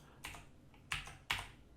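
Keyboard shortcut keys pressed on a computer, three distinct close clicks, quiet with short gaps and no talk.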